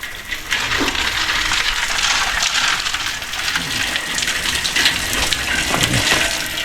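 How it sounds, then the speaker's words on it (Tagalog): Water gushes steadily from a container while a crab dish is being prepared, a continuous splashing pour heard close and fairly loud, with no talk over it. "Ibutra ko tubig."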